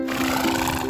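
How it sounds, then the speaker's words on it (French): A horse gives a brief neigh, close and fairly loud, heard on its own with no talk over it. "ça en langage cheval, ça veut dire qu'il est d'accord avec moi"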